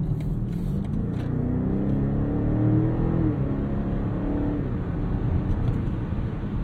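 A European 4.4-liter V8 engine running in comfort mode, a steady low rumble heard from inside the cabin that swells slightly midway and then settles, with no talking.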